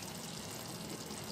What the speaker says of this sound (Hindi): अगर आप पानी कम लग रहा तो अब थोड़ा सा आप ऐड कर सकते हैं पानी